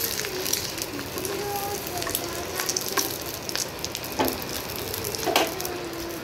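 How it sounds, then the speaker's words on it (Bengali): An egg fries in a hot pan for a poached egg, with a steady crackling sizzle of moderate loudness and a few sharper pops scattered throughout. "আজকে তুলতুলের জন্য একটা ডিমের পোচ বানিয়ে দিচ্ছি।"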